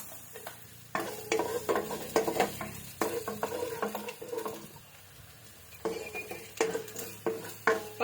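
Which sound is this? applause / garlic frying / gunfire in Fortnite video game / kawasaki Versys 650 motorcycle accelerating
garlic frying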